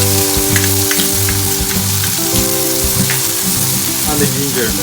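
Garlic sizzles steadily in hot olive oil in a pan, a loud, continuous frying crackle with no talk over it.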